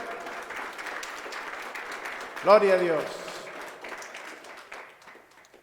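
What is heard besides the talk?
congregation applause in church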